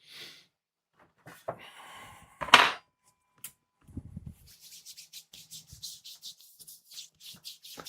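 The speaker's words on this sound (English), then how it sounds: "This is the sound of lotion" Lotion rubbed onto skin after a shower, heard as soft squishing, slapping and wet smearing strokes, close and fairly quiet, with scattered pauses and a quick rhythmic run of rubbing toward the end.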